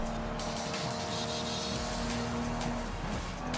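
Race cars, including Jaguar E-types and Mercedes, running in Forza Horizon 5: a loud, continuous engine drone with steady tones and occasional tire squeal, sustained throughout.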